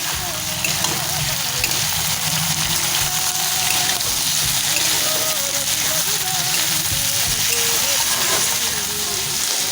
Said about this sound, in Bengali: ঝিঙে, বেগুন, সব সবজিগুলো দিয়ে দিয়েছি বন্ধুরা। এবার ভেজে নেব।